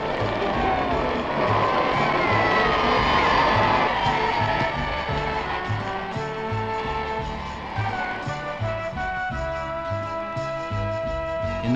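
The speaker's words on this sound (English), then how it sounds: "Outside Buckingham Palace, an early rising crowd of well-wishers waits to see the royal party arrive." An early-morning crowd of well-wishers outside Buckingham Palace awaiting a royal engagement party, a sustained outdoor murmur of cheering and shouting voices, fairly distant and steady throughout.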